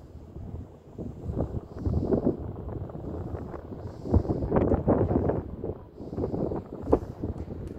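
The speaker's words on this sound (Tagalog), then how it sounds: "Lakas ng hangin." Gusty spring wind among cherry blossom trees buffeting the microphone in uneven low rumbling bursts that rise and fall throughout.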